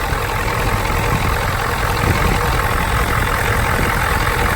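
A farm engine with bad injectors idles roughly, a dense continuous low rumble with an uneven, shaking throb, close and steady throughout with no voices.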